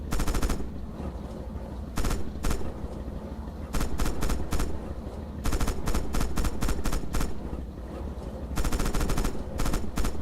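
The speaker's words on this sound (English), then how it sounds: "Open fire with the coax MG on those targets" Coaxial machine gun on a tank firing in Red Orchestra 2, a WWII combat game: loud bursts of rapid automatic fire in several separate volleys with short pauses between them, close and dominant over a low engine rumble.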